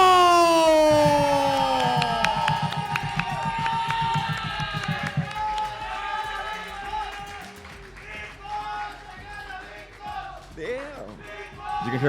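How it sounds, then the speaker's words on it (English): Crowd at a Smash tournament final in Cancún cheering and roaring, loud at first then fading into lively murmur with scattered shouts, while commentators talk over it. "You can hear the crowd just going wild on him."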